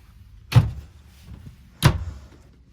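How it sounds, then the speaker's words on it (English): Two sharp wooden knocks a little over a second apart as a stiff closet door in a 2004 Timberlodge travel trailer is pulled open, in an otherwise quiet room. "If I can get this other door open."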